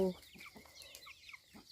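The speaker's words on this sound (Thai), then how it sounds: "ไก่" Chickens cluck softly in a few short, rapid calls, fairly faint and somewhat distant against a quiet outdoor background.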